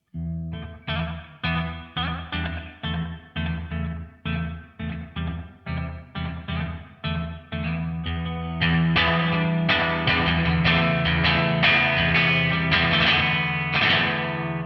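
An electric guitar played through an EarthQuaker Devices Zoar pedal on its shortest reverb setting, distorted chords strummed in a steady rhythm with a short reverb tail, growing fuller and louder halfway through.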